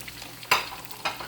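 Turkey egg rolls deep frying in oil held at 350 degrees, a bubbling sizzle with two sharp bursts of crackle close by, no talking.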